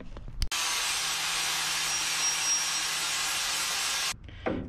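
A power saw or grinder cuts and shaves down a metal part in the engine bay of a BMW E82 competition drift car, a steady loud abrasive whine running for about four seconds, with short bursts before and after.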